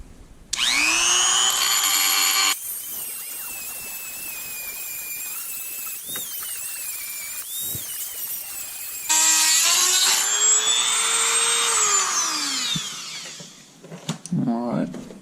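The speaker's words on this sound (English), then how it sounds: "Let's get my little Dremel. And you just want to file those down." A Dremel rotary tool grinding down a Remington 870 magazine tube, its high whine rising and falling in loud bursts as it bites into the metal and eases off, with a quieter idling stretch between passes.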